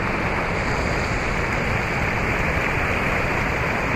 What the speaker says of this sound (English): And there's like mini waterfalls all around.